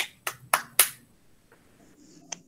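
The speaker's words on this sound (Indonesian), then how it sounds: "kalau mengerti boleh tepuk tangan." Students in a class give a few sharp, separate hand claps, three quick ones close together followed by a faint pause and one more, near and fairly quiet in an otherwise still room.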